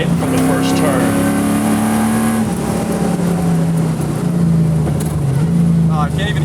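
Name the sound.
V8-swapped Toyota Corolla AE86 driving on a race track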